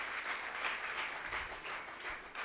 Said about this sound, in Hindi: सबके लिए जोर से ताली कहा प्रहलाद ने